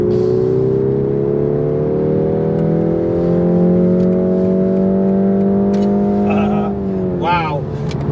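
A BMW 223i Active Tourer M Sport accelerates onto a motorway, its engine note rising steadily in pitch under a continuous whir from inside the cabin, with a short voice near the end.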